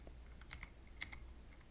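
Typing on a computer keyboard, a few quiet, sparse key clicks in two small bursts against a faint background hum, with no voices.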